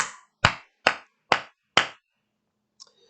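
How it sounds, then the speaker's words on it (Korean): Five sharp, evenly spaced hand claps ring out close and loud during a Korean church Sunday worship service, each one crisp and separated by silence. A faint small sound follows after a pause. "우리 하나님께 영광의 박수를 내드립시다"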